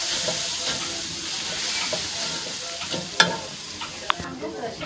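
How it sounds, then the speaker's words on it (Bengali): Chicken stir-fried in a pan with green chili and salt, giving a steady close sizzle and frying hiss with light scraping stir strokes and a couple of sharp clinks near the end. "তারপর কিছুক্ষণ এভাবে কষিয়ে নিতে হবে।"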